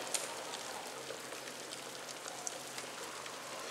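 Chunks of meat sizzle in melted butter at the bottom of a pressure cooker, a steady, even crackling hiss with a few sharper pops and no talking.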